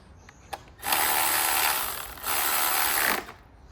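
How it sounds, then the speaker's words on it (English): A 10mm ratchet wrench tightens the ignition coil bolts on a 2.0T Alfa Romeo Giulia or Stelvio engine, making two close, sustained bursts of rapid clicking separated by a short pause, with a faint click before them. "Now I can grab my 10mm and tighten the bolts on the coils."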